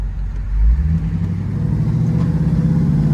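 A 1968 Chevrolet Camaro SS engine rumbles loud and close while driving, its deep low growl swelling in a brief rev before settling into a steady, throaty drone.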